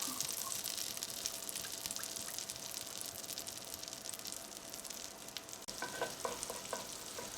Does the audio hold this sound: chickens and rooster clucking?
no